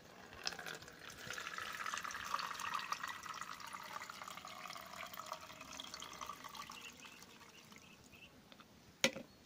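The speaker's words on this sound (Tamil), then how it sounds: "வடிகட்டி வச்சு நல்லா வடிகட்டிக்குங்க." Asafoetida solution is poured through a filter as a steady, close trickle of liquid that slowly fades, ending with a brief sharp clink.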